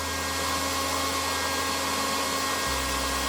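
A hair dryer drawing about 1369 watts on hot air blows steadily with a loud, constant whooshing hum, its motor tone shifting slightly near the end.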